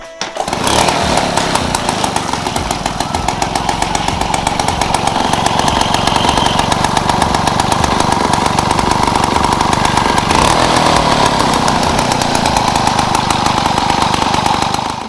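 A 1977 Peugeot 103 moped, freshly restored and tuned, starts immediately and runs steadily, its two-stroke engine buzzing loud and close with a rapid, even pulse throughout.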